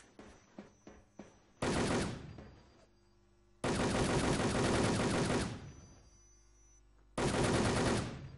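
Video game gunfire: a few sharp single shots, then three long sustained bursts of rapid automatic fire separated by short quiet gaps, loud and close with no talking.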